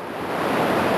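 Water flowing in a mountain gorge, a steady broadband rushing roar, loud and close, continuous with no talking.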